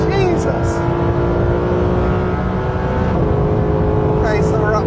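High-performance sports car engine roaring on a race track as it charges down a straight toward a heavy braking zone: loud, continuous and close, with sustained harmonic engine tones throughout.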